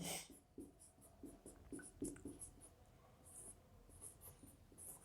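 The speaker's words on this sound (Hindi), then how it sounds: "मैं कुछ पॉइंट्स लिख रहा हूं आपके सामने।" Chalk or marker writing points on a board during a political science lecture, heard as a steady series of short scratchy strokes close by, with no talking over them.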